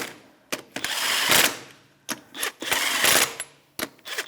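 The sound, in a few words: ratchet with 21mm socket snugging wheel lug nuts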